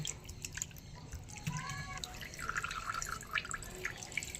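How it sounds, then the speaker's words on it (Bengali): Fresh chhena curds for rasgulla rinsed by hand in plain water: faint, close drips and small splashes with soft trickling, quiet and intermittent over a few seconds. "এইবার ভালো করে নর্মাল জল দিয়ে ছানাটাকে একটু ধুয়ে নিতে হবে।"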